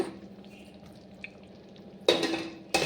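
Oil-fried brinjal tipped, oil and all, into a village-style kara kuzhambu simmering in a clay pot, giving two sudden loud splashing, sizzling bursts over a low, steady bubbling simmer.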